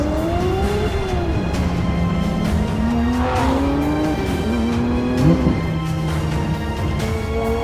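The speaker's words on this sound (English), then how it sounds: "we had what was the craziest sounding Porsche in the world" A 4.5-litre Porsche GT3 Touring engine revs hard at high RPM, rising and falling in sustained, loud pulls with harmonic sweeps, the rasping note continuous and close throughout with no talking.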